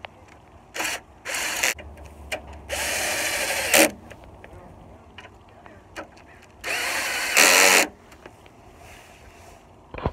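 A power tool runs in several short bursts while tightening the condenser bolts on a Jeep Liberty during radiator work, with clicks and handling noises between the runs; close and fairly loud.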